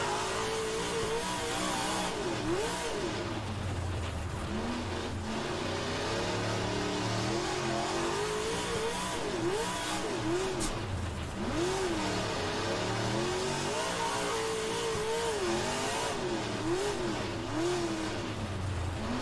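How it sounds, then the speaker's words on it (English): Stock cars race on a dirt oval in rFactor 2, with several engines revving and winding up and down in repeated rising and falling waves as cars pass, loud and continuous. "More cars just exited off the backstretch there"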